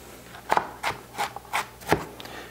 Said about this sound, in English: Next, chop up the celery, onion, carrots